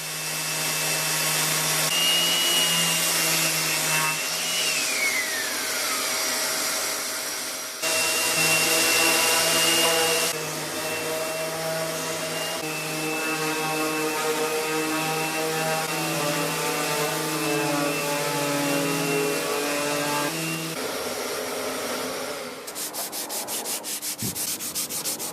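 Circular sander smoothing the hardwood of a drawer during furniture restoration, a loud steady whir with brief pauses and shifts in pitch as the pad moves across the wood, alone without speech.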